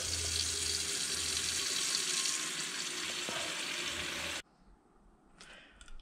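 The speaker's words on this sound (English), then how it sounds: "Fill the pan up with some water." Water streams steadily from a tap into a pot with a constant hiss, then cuts off abruptly, leaving a few faint clinks.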